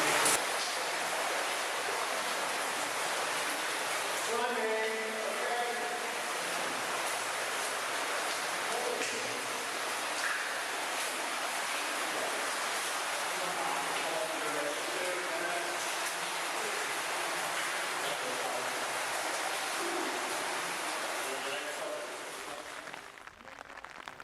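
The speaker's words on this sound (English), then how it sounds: "the rain that all weekend had threatened to delay the venture had now arrived" Steady heavy rain falls outside a cave as a dense, constant hiss that holds at an even level for over twenty seconds, with faint murmuring beneath it.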